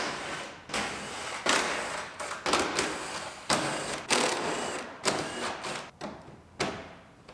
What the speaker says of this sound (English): now we can start pulling all the nuts off all the studs